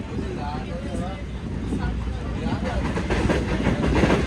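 Awam Express train coach rolling along with a steady loud rumble and rattling clatter throughout, voices talking over the continuous travel noise.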